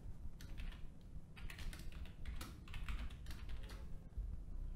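Close, quiet typing on a computer keyboard as a password is entered, with bursts of rapid key clicks separated by short pauses.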